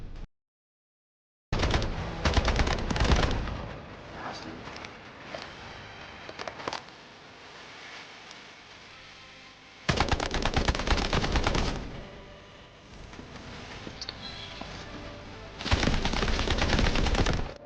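Gunfire in the video game Delta Force: loud sustained automatic bursts after a brief silence, with a quieter stretch between the heavy volleys and no speech.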